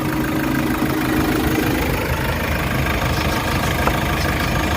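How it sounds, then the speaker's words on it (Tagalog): A Hyundai H100 van engine idles steadily after repair, a continuous close mechanical hum with faint knocking texture throughout, no voices. "So malinis yung guys, yung andar ng makina."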